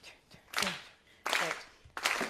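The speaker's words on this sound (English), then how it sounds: "we're all gonna clap along to this rhythm" A group claps along to a steady rhythm at a new music symposium, three sharp bursts of clapping spaced evenly apart, fairly close and loud with no talk over them.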